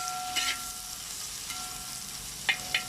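Onions frying in oil with mustard seeds, curry leaves and dried red chillies, a steady low sizzle with a few brief stirring clinks near the start and end, no talk.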